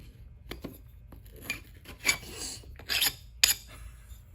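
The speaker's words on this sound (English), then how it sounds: "I want to scrape this off" Residue is scraped off a hard surface in short, gritty rasping strokes, about half a dozen uneven scrapes close by in otherwise quiet surroundings.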